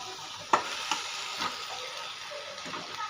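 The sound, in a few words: stirring pasta into sizzling spice masala in a pan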